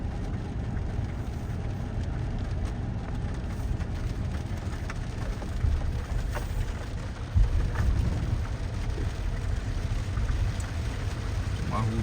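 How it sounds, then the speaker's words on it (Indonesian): Steady rain pours during an electric-car road trip near Bukittinggi in West Sumatra, a constant dense hiss with a few low thuds, heard up close for the whole stretch. "Cuma hujan guys,"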